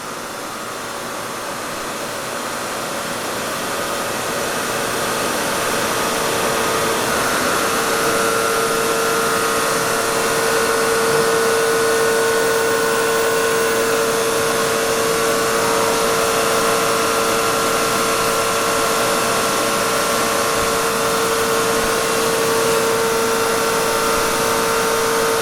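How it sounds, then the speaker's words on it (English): Weeke BHC Optimat Venture 1 CNC machining center running a tool change, a loud continuous mechanical drone with a steady tonal hum that holds unbroken throughout. "She's going to remove one tool. Place it in the tool carousel and grab another one."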